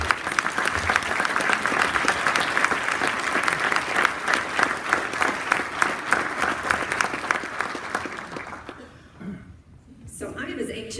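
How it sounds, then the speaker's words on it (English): Sustained applause from a luncheon audience at a North Dallas Chamber of Commerce business awards event, many hands clapping steadily for nominees for about nine seconds before fading, with brief murmuring afterward. "Let's give all of our nominees a big round of applause."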